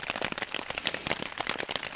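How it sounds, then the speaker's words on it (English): Heavy rain falling in the Hoh Rain Forest, a dense, steady patter of drops hitting close surfaces, loud and continuous with crackling texture throughout. "now it's a heavy rain"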